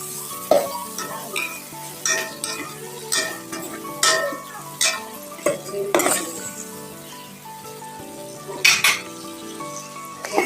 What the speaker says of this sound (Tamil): சேர்த்துட்டு நல்லா வதக்கி விடுங்க